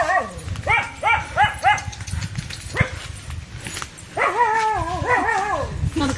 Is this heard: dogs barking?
yes